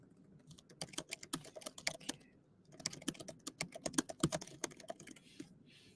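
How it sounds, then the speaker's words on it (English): Brisk typing on a computer keyboard, close and fairly quiet: two runs of rapid clicking keystrokes separated by a short pause, with no talking. "I'll type it in the chat"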